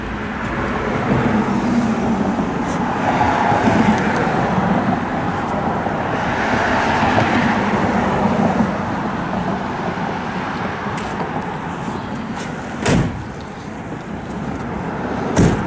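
A 1964 Pontiac LeMans engine idles smoothly and steadily, a low, even hum holding throughout with a brief sharp click near the end and no voices.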